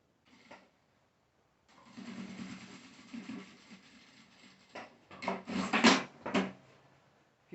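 A sewing machine runs in short bursts while stitching a seam on a small fabric shoulder bag, the motor whirring unevenly with pauses between runs and a louder stretch near the end.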